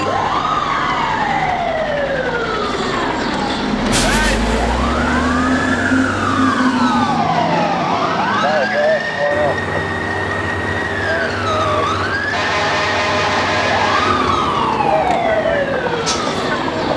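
Fire engine sirens wail and yelp in overlapping rising and falling sweeps as trucks respond to an alarm, with a heavy horn blast and loud, close engine rumble beneath.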